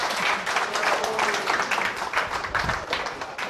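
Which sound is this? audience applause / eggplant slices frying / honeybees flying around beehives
audience applause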